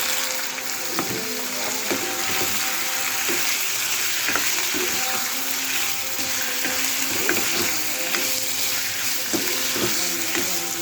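An onion mixture fries steadily in a pan before chicken is added, a continuous close sizzle with occasional stirring clatter and scraping throughout, no talking.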